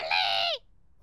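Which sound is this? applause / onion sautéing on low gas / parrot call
parrot call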